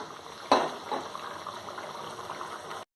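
Liquid boils in a pot while egg biryani cooks, a close, bubbling burble with a sharp splashy bump early on, continuing steadily until it cuts off.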